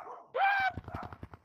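A dog gives a short, high whining bark followed by a quick run of small yips, fairly close and moderately loud.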